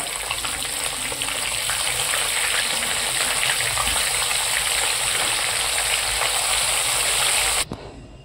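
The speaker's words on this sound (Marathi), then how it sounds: "राहिलेले पीस पण आपण असे याच पद्धतीने सगळे" Fish pieces frying in hot oil in a wok, a steady dense sizzle and bubbling hiss that runs unbroken and fairly loud before cutting off abruptly near the end.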